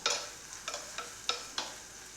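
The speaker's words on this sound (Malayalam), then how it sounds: "ഈ സവാള ഒന്ന് നമ്മൾക്ക് ചെറുതായി ഒന്ന് വഴറ്റിയെടുക്കാം" Chopped onion sautéing in hot coconut oil for a radish leaf thoran, a soft sizzle broken by five or six short scraping stirs at a steady pace, close and fairly quiet.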